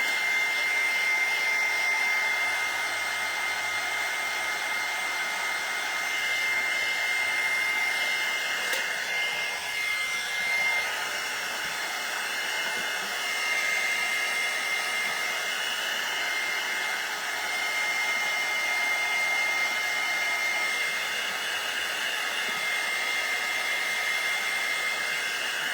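A hair dryer blowing on coffee grounds, a steady continuous whooshing hum that runs unbroken and fairly close throughout, with no talking.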